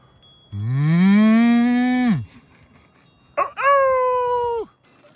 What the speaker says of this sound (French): Ça, c'est un certain type de vache, mais je sais plus lesquels